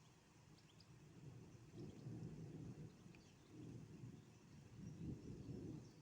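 Rolling thunder from an electrical storm over Manzanares, Ciudad Real, Spain, fairly faint and distant, swelling and fading in several low rumbling waves with a faint wash of rain beneath and no voices.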